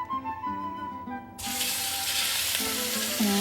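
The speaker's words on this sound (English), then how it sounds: "we're going to saute the meat until brown" Minced beef fillet hits hot vegetable oil in a frying pan, a brief quiet clatter giving way to a sudden loud, steady sizzle that continues to the end.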